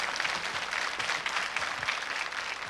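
A studio audience at a television quiz show claps in a dense, steady burst of applause that holds at even loudness throughout, with no voices above it.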